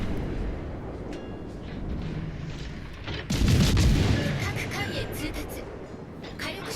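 Naval gun salvos boom in World of Warships Legends as a ship lobs shells at the Louisiana, with a heavy rumbling blast near the middle over a constant low battle roar and intermittent cracks.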